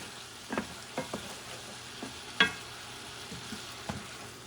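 A spoon stirring a salted cod stew mixture in a pot, heard as a handful of soft scrapes and knocks over a faint simmering sizzle, quiet and fairly close, with no voices.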